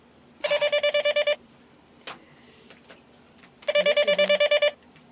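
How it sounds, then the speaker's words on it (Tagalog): A residence telephone rings in two evenly spaced bursts of rapid, trilling electronic tones, each lasting about a second, with a quiet gap between them holding faint knocks and room sounds. "Nagri-ring yung telepono."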